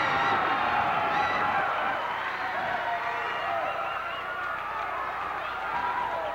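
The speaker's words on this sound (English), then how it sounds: "And listen to this crowd." Wrestling arena crowd cheering and roaring in a dense, continuous wash of voices after a victory, fairly distant and sustained with no single speaker standing out.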